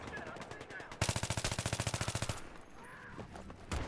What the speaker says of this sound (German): ich werde hier auch ganz Zeit von einem Sniper beschossen